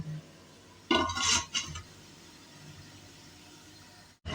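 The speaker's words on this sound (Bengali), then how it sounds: "এখন ওপর দিয়ে একটা ঢাকনা চাপা দিয়ে দেবো দশ মিনিটের জন্য" A lid set down over jackfruit leaves on a perforated steamer plate gives a short burst of metallic clinks and clatter, close and fairly loud, followed by quiet room tone.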